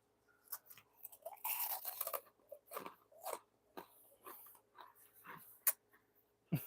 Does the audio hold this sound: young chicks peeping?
no